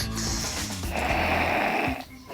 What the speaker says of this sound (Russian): Чаще всего этот храп вызван насморком и быстро проходит.